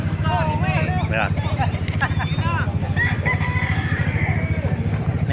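A lemon sweater gamefowl rooster crows at a busy outdoor chicken market, with other cocks crowing and clucking close by while people talk continuously over a steady low rumble.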